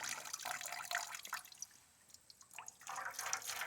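Old fuel splashes and trickles out of a Yamaha Virago 1100 motorcycle's tank in uneven pours, with a brief lull before the flow resumes, close and fairly quiet.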